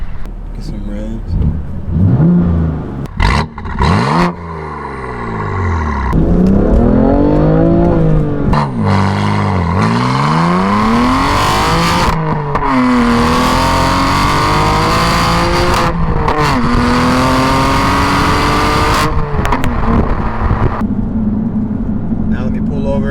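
A BMW F80 M3 fitted with high-flow downpipes revs hard and repeatedly, with rising and falling engine sweeps and sustained high-rpm stretches, loud and close, with an exhaust crackle between pulls.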